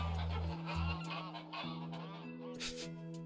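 Geese honk repeatedly in the video game A Space for the Unbound, a steady run of nasal calls heard close and fairly loud, with no talking over them.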